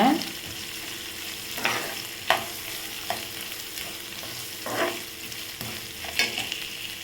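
Green chillies sauté in hot oil in a pan with a steady, hissing sizzle, while a few sharp spatula scrapes and taps break through now and then. No one speaks.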